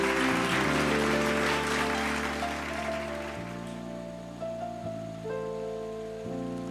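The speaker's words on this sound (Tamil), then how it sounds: "கைத்தட்டுங்க ஒரு தடவை அவருக்கு." Audience at a church gathering clapping, a dense burst of applause that starts loud and gradually thins and fades over several seconds.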